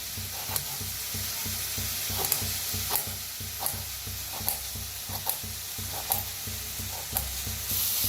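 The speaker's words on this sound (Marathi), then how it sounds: "कांदा चांगला भाजतला आहे" Chopped onion sizzles in a hot pan while a utensil scrapes and stirs it in a steady rhythm of soft knocks, the frying hiss continuous underneath.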